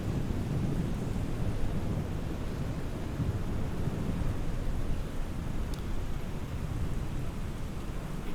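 Steady rain with a rumbling thunderstorm in the Microsoft Flight Simulator game, a dense continuous wash of rainfall and low rumble at an even level throughout.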